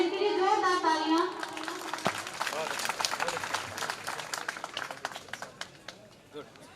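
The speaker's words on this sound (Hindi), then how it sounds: "इनके लिए जोरदार तालियां" A crowd at a police training centre passing-out parade breaks into applause, scattered hand claps that build after an announcer's voice and then thin out, fairly distant and uneven.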